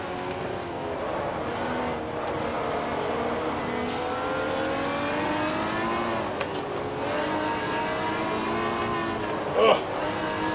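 A steady race car engine in a video game drones continuously, a Jaguar XJ-S Trans-Am, its pitch rising and falling as it revs, loud and close throughout.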